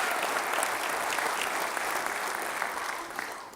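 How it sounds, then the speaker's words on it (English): Sustained applause from an audience at a civic development update, even crowded clapping at moderate distance, fairly quiet and steady before easing off at the end. "let's give them a big round of applause and thank them"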